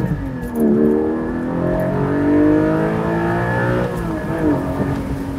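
A Porsche sports car engine revs up and holds high, its pitch rising and falling in steady sweeps, loud and close with no talking.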